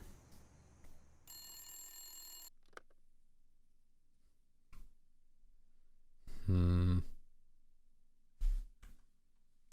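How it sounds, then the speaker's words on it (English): Telephone ringing in a video game: a bright electronic ring burst early, then a louder ring around the middle and a short final chirp, with quiet gaps between. "Obviously, we'll answer the phone."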